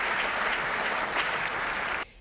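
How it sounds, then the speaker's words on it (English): A room full of people applauds the Lindsay family with a thick, even burst of clapping that runs for about two seconds, then cuts off abruptly into near silence. "Let's have a round of applause for the wonderful Lindsay family"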